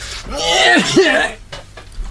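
A voice mimics a cough and then a sneeze, short wheezy bursts up close, followed by a quieter breathy tail.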